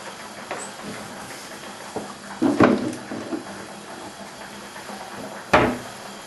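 A couple of sharp wooden knocks as a kitchen cupboard door opens and then shuts, over a quiet room hum.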